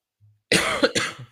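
A dry cough from a man, a single close harsh burst followed by a second shorter cough, preceded by a faint low grunt, with no talking.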